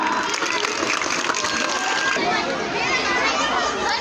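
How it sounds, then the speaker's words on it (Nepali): Children in a school STEM club applaud rockets built by their fellow students, a dense, continuous patter of many hands filling the whole stretch, with crowd chatter mixed in. "ताली बजाउनु होला"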